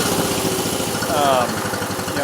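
A John Deere MC tractor engine idles close by with a steady, even low chugging beat that runs through the whole short stretch.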